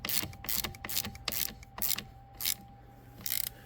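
A ratchet wrench tightens the positive battery terminal clamp on a 2017 Hyundai Tucson, making a quick series of close, rhythmic clicking bursts separated by short pauses.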